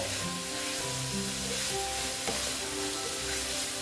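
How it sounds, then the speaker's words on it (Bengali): Pointed gourd frying in oil with spices and green chillies, a steady close sizzle with a low hum underneath and one brief stirring knock, no voices. "দেখো এইভাবে আস্তে আস্তে কষিয়ে দিচ্ছি"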